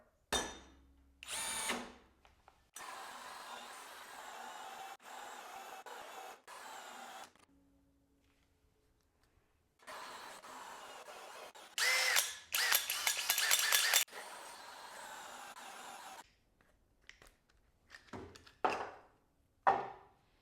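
A Skil 12V PWRCore compact drill bores into a board, whining in several separate bursts of varying length with quiet gaps and brief mechanical clicks between them, heard close and without speech.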